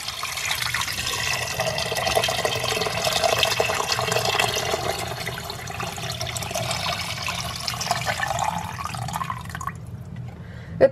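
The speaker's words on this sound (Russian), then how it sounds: "Затем наливаю воду." Steady stream of about two litres of water pours continuously into a pot holding chicken breast and skin for about ten seconds, a constant splashing rush that cuts off abruptly at the end.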